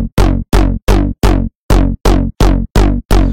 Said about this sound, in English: Just like an acid bass line.